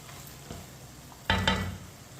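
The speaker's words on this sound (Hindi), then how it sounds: "इसी तरह चम्मच लाते हुए पकाएं।" Spices sizzle faintly in a hot pan, then a spoon scrapes and stirs them in two short louder bursts of frying hiss and clatter near the end, with no voices.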